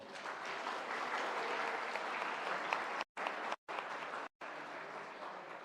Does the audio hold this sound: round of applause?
yes